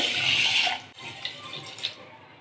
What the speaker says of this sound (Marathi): तांदूळ आपल्याला 2 पाण्याने धुवून घ्यायचे।